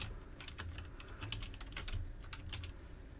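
Typing on a computer keyboard while writing HTML and CSS code, with steady quick clusters of key clicks close to the mic over a low background hum, with no talking.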